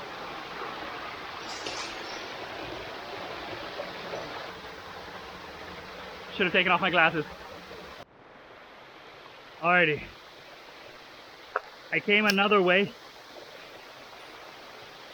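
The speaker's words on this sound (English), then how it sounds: "Made it to the waterfalls." Steady broadband rush of a stream and waterfall along an untracked trail, constant through the clip as someone talks briefly over it at intervals.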